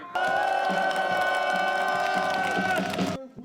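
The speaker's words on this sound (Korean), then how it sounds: "박근혜 전 대통령의 탄핵을 이끌어낸 촛불혁명의 함성이 시가지에 울려 퍼졌습니다" A large crowd cheers and shouts continuously in the city streets at a candlelight rally celebrating the impeachment of former president Park Geun-hye in Daegu, a loud, dense roar that holds steady before cutting off abruptly near the end.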